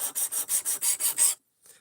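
A knife blade sharpened to 17 degrees per side, with eight even rasping strokes in quick rhythm, close and fairly loud, then a pause and one faint final stroke.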